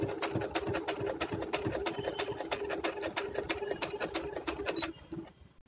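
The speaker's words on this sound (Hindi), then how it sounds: "अब आराम से स्टिच कर दूंगी।" A sewing machine runs at a fast, steady clip while stitching lace onto the hem of a suit to lengthen it, its needle ticking in a regular rapid rhythm before slowing and stopping near the end.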